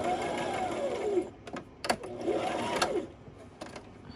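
A sewing machine stitching a line onto a paper envelope for a junk journal cover, running in two steady whirring bursts separated by brief pauses with a few clicks, close by.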